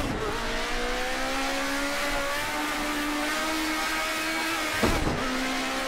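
A race car engine in a racing video game set at Bathurst revs up through the gears, pitch climbing steadily, then dropping sharply at a gear change before rising again, loud and continuous.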